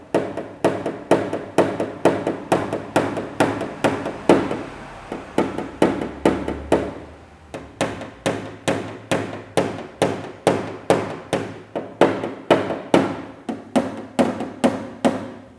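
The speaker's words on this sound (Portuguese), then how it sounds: "agora com o martelinho" Rapid, steady taps of a small paintless dent repair hammer on car body metal, sharp and close, repeating in quick bursts with a brief pause midway.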